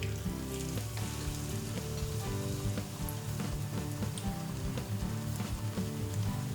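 Nori seaweed strips brushed with chickpea flour batter fry in hot oil in a pan, giving a dense, continuous crackling sizzle that stays close and even from start to finish, with no voices.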